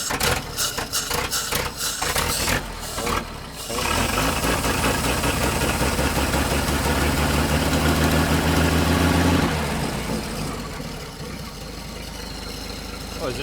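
Engine of a 1947 Dodge truck with a carburetor gasket fault, running steadily near the microphone for most of the span with a continuous low idle hum, after a brief rough start-up, then settling slightly quieter toward the end.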